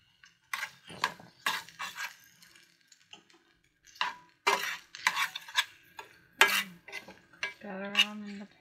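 Vegetarian chorizo is pushed around a pan with a utensil, giving a series of close, irregular scrapes, clinks and taps against the metal, separated by brief quiet gaps, with a faint sizzle.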